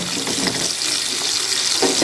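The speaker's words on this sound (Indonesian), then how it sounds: "Goreng ikan asin dulu." Salted fish frying in a pan of hot oil gives a steady, close, dense sizzle with small crackling bursts throughout and no voices.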